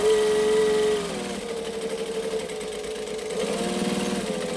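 A sewing machine runs long basting stitches, a steady mechanical whir with a rapid needle chatter that slows briefly partway through and then picks back up, close and unaccompanied by speech.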